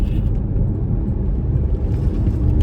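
Turbocharged engine of a 2016 BMW X1 accelerating, a steady heavy rumble with a whirring drone heard from inside the cabin, with no talking.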